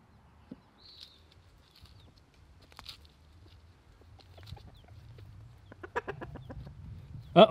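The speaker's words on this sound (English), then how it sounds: "the chickens are really enjoying the yellow jacket larva" Scattered soft clucks from a few chickens eating yellow jacket larvae, quiet and close, with light pecking and rustling that grows busier toward the end.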